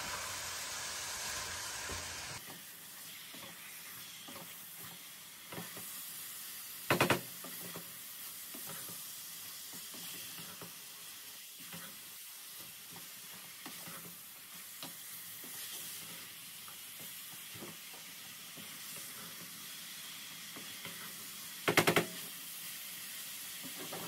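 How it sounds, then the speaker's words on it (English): Chicken and cabbage curry being stirred in a pan over low gas, with a soft steady sizzle and scraping of the spoon, plus two short louder clatters partway through. "I'm gonna mix this up really well and then cover it up on low gas"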